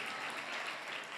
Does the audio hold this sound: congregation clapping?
yes